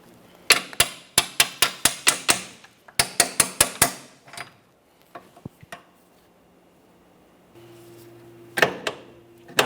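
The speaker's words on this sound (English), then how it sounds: "Just go ahead and lightly start tapping this bolt out." A hammer strikes a bolt on a Jeep Patriot rear lateral link in quick bursts of sharp metallic taps, two rapid runs of about eight blows each, followed by a few scattered hits and a later clank, close and loud.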